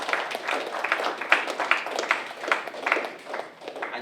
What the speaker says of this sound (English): Give Xavier a round of applause.